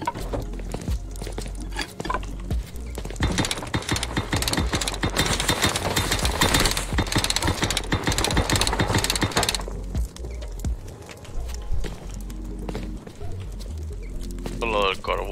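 Hammer strikes on objects in the survival game Rust, a dense run of sharp repeated impacts with clanking and rattling layered over game ambience while someone talks throughout.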